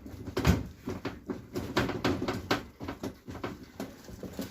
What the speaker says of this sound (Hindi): जैसे हम इसका मडगार्ड पकड़ के हिला रहे हैं तो ये खटखट के आवाज़ भी कर रहा